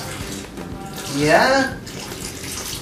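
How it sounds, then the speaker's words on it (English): Running water from a tap pours steadily throughout, swelling briefly in the middle as a balloon charged on hair bends the stream, with a person talking over it. "notice what happens to the water stream"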